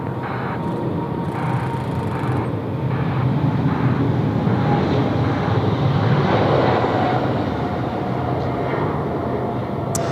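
A Korean Air jet takes off from Sydney Airport bound for Seoul in wet weather, a loud, steady broadband engine roar that fills the whole stretch without pause.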